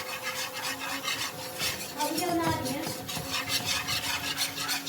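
Maida flour is stirred into hot oil in a kadhai: a faint, continuous scraping and rubbing of a spoon against the metal pan, steady and unhurried, with a soft hiss underneath and no talking.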